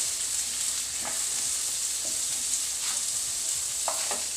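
Onions sizzling in a pan with oil, a steady soft frying hiss with occasional faint stirring scrapes, close and fairly quiet.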